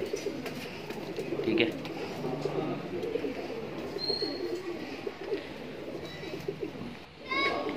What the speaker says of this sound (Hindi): देखिए कबूतर कैसे है, सब बड़ी साइज़ के अच्छे ठाट बाट के कबूतर है भाई।